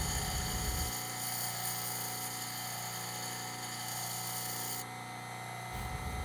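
A diamond grinding wheel shapes an ocean picture stone cabochon, its steady high whine humming on and on, with the load shifting as the stone is pressed against the wheel.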